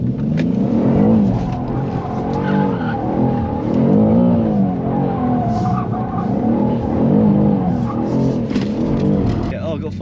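A 600 hp BMW G87 M2 in drift mode at Santapod revs hard and keeps its tires squealing and skidding, loud and close, with the engine roar rising and falling in waves.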